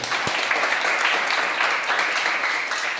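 Students in a classroom clap together for a correct answer, a steady burst of hand claps lasting a few seconds with a faint voice underneath.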